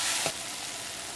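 Chilies frying in oil give a steady, fairly soft sizzle, with one brief stir or scrape near the start.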